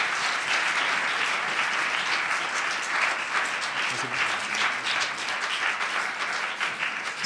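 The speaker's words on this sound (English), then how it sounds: "I think we can give a last round of applause for..." An audience at a lecture and musical performance evening applauds at the close of the talk, a thick, even wash of clapping from a large room that holds steady throughout.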